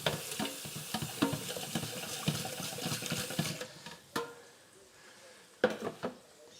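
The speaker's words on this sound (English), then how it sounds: "Rinse this out with some water." Cooking pot rinsed out with water in a kitchen: splashing and swirling water with irregular patters and clinks for a few seconds, then it tapers off into quieter scattered knocks and drips.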